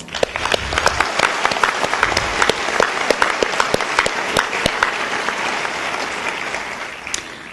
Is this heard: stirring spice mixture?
no